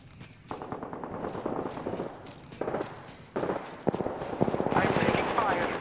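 Rapid automatic gunfire in a video game, repeated bursts of shots with the fire growing heavier toward the end, under a voice calling out.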